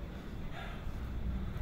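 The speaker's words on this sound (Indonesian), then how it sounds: "Angin sudah berembus." Outdoor wind during kite flying gusts against the microphone as a low, steady rumble with no clear voices.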